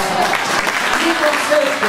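A church audience breaks into strong applause, a short dense burst of clapping that stays loud and even for under two seconds.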